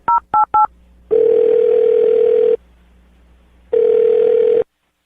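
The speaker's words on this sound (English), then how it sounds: "I'm going to dial her phone number right now" A telephone number being dialed: three quick touch-tone beeps, then two long steady ringback tones separated by a short pause, loud and clear with no talking.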